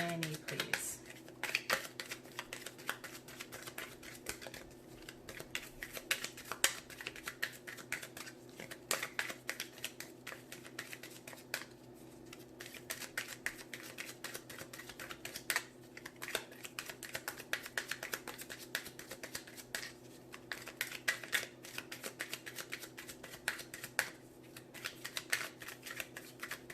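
A Wild Kuan Yin Pocketbook Edition oracle deck is shuffled by hand, producing rapid, faint, papery flutters and soft clicks that repeat in irregular bursts over a quiet room tone.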